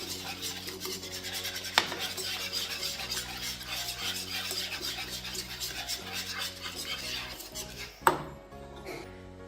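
Ground turmeric, red chilli and other spices stirred together in a bowl for Karachi-style chicken korma: continuous scraping and clinking of a spoon against the bowl with a few sharper knocks, close and unaccompanied, over faint background music.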